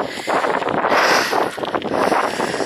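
Strong, fierce wind buffets the microphone during an outdoor bike ride by an old canal in Somerset, a loud, continuous roaring rumble that swells and dips without a break.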